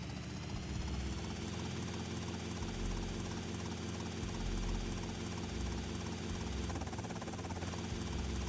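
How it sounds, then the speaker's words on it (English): A video game helicopter in flight gives a steady, continuous rotor and engine drone that holds at a constant level throughout with no speech. "So this heli flight separates the men from the boys."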